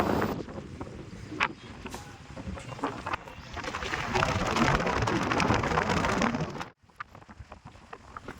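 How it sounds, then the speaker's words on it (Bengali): Loud, steady wind roaring and buffeting the microphone for several seconds, with a rain-like hiss, then cutting out briefly near the end. "দেখতেই পাচ্ছ কি হাওয়ার আওয়াজ"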